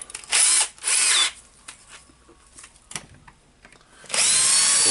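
A Bosch power drill whirs in loud bursts while unscrewing screws from a Makita HR2811F SDS plus rotary hammer drill, a short spin, then a longer run, with quieter handling and scraping in between and a final sustained burst at the end.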